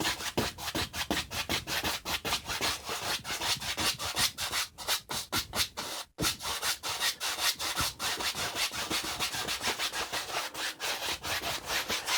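Paintbrush working paint across a canvas in crisscross X strokes to blend colours, a close, steady run of rapid dry scrubbing swishes with one brief pause midway.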